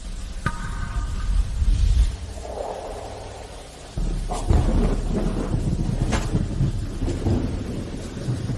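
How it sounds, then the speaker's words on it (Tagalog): Pouring rain with rolling thunder: a steady wash of heavy rainfall under deep rumbles, with a loud crack-like surge midway, close and full, with no voices. "Bumubuhos ang ulan diyan."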